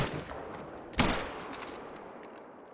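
A single sharp rifle shot cracks out at a hunt for black bear in open country, loud and abrupt, then fades into a long rolling echo with no talk over it.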